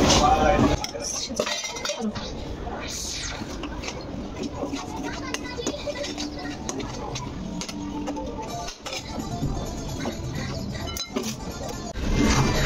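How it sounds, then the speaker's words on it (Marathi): A spoon scrapes and clinks against a pan as sabudana with crushed peanuts is stirred and mixed, under steady talking with children's voices in the background. "आता मी मिक्स करून घेते. पिलू करायला लागले मी, हलवून घेते सगळी."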